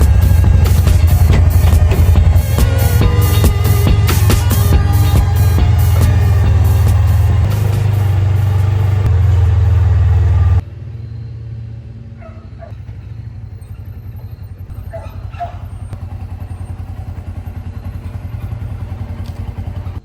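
A vehicle hauls a load of firewood up to a house, a loud close motor roar with rattling for about ten seconds, then a quieter idle hum with scattered clunks and knocks.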